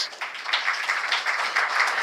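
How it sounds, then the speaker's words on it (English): Audience applause at a stock market listing ceremony for Emmvee Photovoltaic Power Limited, a steady wash of many hands clapping in a hall, fairly close and continuous with slight swells, no voices over it. "Please continue the applause"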